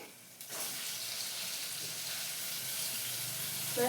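Finely chopped tomatoes tipped into a hot pan with turmeric in a home kitchen: after a brief quiet moment, a sudden loud sizzle that settles into a steady, close hiss with faint stirring.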